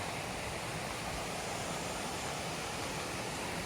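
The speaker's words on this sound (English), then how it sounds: "You can really hear it, and this is a proper waterfall." A proper waterfall roars steadily along a long-distance hiking trail, a dense, continuous rushing wash heard up close and alone, with no change across the whole stretch.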